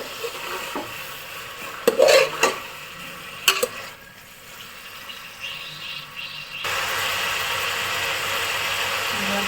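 Washed goat intestine for boti gojju is stirred in a pan, with a few sharp scraping clanks of the spoon early on, then a quieter stretch before a steady frying sizzle takes over, close and with no talk.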